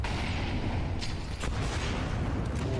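Grenade blasts in the Counter-Strike 2 video game during a BLAST Premier Open London semi-final match, heavy booming rumbles with a couple of sharp cracks amid constant loud low-end noise.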